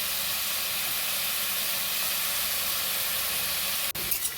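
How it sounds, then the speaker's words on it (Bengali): Mangoes frying in a pan for chutney give a dense, steady hiss that fills the clip, loud and close, ending with a sharp knock and a few faint clatters. "এবারে আমি আমগুলো একটু ভেজে নেবো।"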